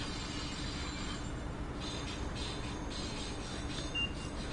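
A Boston Sprinter train in Train Sim World 2 rolls into Boston South Station with a steady low rumble and rail noise, plus a faint squeal near the end, no talking.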